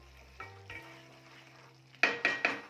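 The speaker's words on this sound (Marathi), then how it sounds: "याला छान तेल सुटेपर्यंत हे भाजून घ्यायचं" Fresh grated coconut roasting in oil in a pan, stirred with a few scraping clanks of a utensil against the metal, soft frying sizzle underneath, close and fairly quiet.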